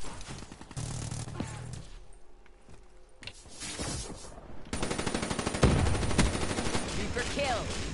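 Rapid automatic gunfire from a weapon in the video game Call of Duty: Black Ops III rattles in dense bursts amid other game effects, loud and close throughout.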